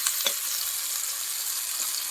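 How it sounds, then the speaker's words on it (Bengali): Spice paste for a pointed gourd and prawn curry frying in oil, a steady close sizzle with faint stirring ticks and no voices. "এই মশলাটা ততক্ষণ কষাতে হবে যতক্ষণ না মশলা থেকে তেল ছেড়ে আসছে।"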